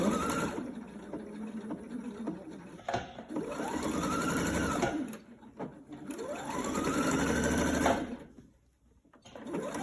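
A sewing machine straight-stitching a fabric face mask, its motor whirring in long steady runs with a rapid needle clatter, pausing briefly between passes and stopping near the end, close and fairly loud.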